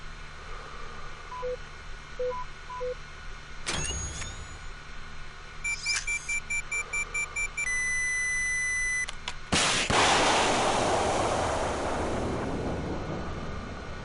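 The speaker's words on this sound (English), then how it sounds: "Switch to direct attack mode, lock on, and fire again" Javelin missile launcher in America's Army training: a few soft seeker beeps, then a rising lock-on tone pattern that becomes a steady pulsing tone, ending in a loud whooshing launch blast that trails into a long roar.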